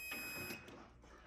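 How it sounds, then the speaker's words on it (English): A fire alarm system buzzer muffled under tape sounds close, a dull continuous tone with a beeping quality, fading slightly partway through. "I have tape over the buzzer because it's loud."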